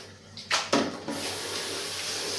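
Glutinous rice is rinsed in water in a cramped bathroom space, with a couple of sharp splashes and pours followed by a steady running-water rush, no speech.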